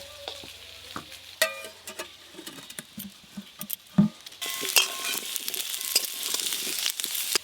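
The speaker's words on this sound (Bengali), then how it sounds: "এদিকে কচুগুলো ভালো করে ভাজা হয়ে গেছে" Pieces of taro frying in mustard oil in a pan, with soft patter and crackle broken by sharp utensil clinks, then a louder steady sizzle building toward the end.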